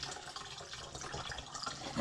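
Water trickles and gurgles as it's poured through a funnel, a soft continuous flow with a small splash at the end.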